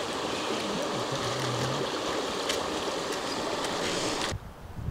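Fresh water flows steadily in a creek at Lower Death Hollow in Utah, a loud, close, continuous rushing wash that cuts off abruptly near the end.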